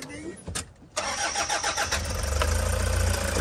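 A 2012 Toyota Hiace Super GL with a 3000cc turbo diesel engine cranks briefly and fires, then settles into a loud, steady diesel rumble close by.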